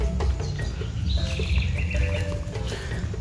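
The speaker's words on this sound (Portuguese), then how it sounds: "Vocês podem estar ouvindo aí, ó, o cântico dos pássaros, os açaizeiros." Birds sing in the Amazon forest among açaí palms on Combu Island near Belém, thin whistled calls weaving over a constant rushing outdoor background.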